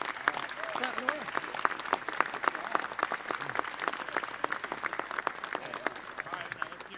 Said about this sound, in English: Hey, clap. Clap it away.